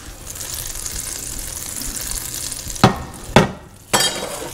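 Butter melting in a very hot pan gives a steady, even sizzle, then three sharp loud clatters near the end, like a utensil or pan being knocked.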